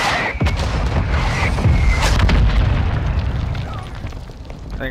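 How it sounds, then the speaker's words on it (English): Booming Semtex grenade blasts and gunfire crack through a Call of Duty: Modern Warfare II match on the Border Control map, several loud bursts layered over rumbling battlefield noise. "Throwing Semtex!"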